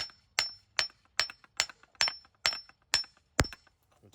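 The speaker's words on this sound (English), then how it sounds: "Take our hammer, kind of tap that in there a little bit" A hammer taps an engine mount part into place on a 2004 Chrysler Pacifica, about eight sharp metallic strikes at a steady rhythm, close and clear, with a bright ringing edge and quiet gaps between blows.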